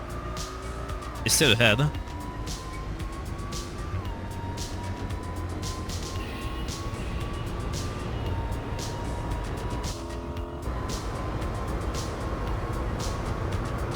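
Jaguar E-Type racing in Gran Turismo 4 at Autumn Ring, its engine holding a steady drone with gradual pitch climbs and shifts, a brief tire squeal early on, people talking over it.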